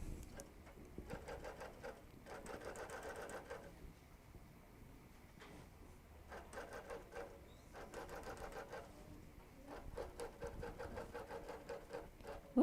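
A sewing machine doing free motion quilting on a guitar quilt: repeated stretches of quiet rapid stitching whir, starting and stopping in bursts, faint and steady under low room noise.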